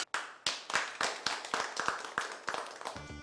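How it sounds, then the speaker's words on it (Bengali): Small audience clapping on a Bangla comedy show, about a dozen distinct, evenly spaced claps, fairly close and moderately quiet. "একটা হাততালি।"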